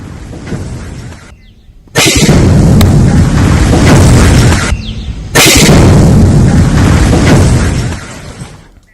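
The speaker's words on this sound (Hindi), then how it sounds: "इसे देखते हुए डायनामाइट के जरिए इसे ढा दिया गया, गिरा दिया गया।" Dynamite blasts bring down an old, dilapidated building in two long, loud roaring bursts, each followed by a rumbling collapse that trails off, with a quieter stretch of noise before the first blast.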